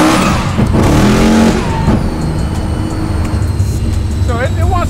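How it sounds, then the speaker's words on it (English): A 1200 hp Volvo rolls on hard in first gear with a loud engine roar from the cabin, rising then settling, while people talk over it and chirping squeals appear near the end. "we'll do a first gear like roll on too"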